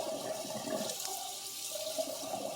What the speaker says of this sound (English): you just rinse these under chilly water